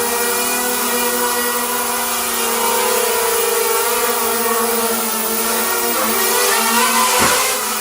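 Hyperion Vengeance 280 FPV drone motors throttling indoors, a steady, loud buzzing whine with stable harmonic tones that dips briefly near the end, with no talking.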